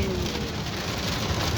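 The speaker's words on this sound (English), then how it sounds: "Yo, it's raining, man." Rain falls steadily on a road on the Fourth of July, a dense, even hiss of drops with faint bird calls in the background and no talk.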